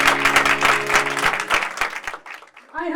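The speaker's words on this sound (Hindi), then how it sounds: "आए कलाम के लिए जोरदार ताली" Church congregation at a Sunday meeting of an Evangelical discipleship ministry breaks into loud, dense applause over sustained musical tones, fading to scattered claps before a voice returns at the end.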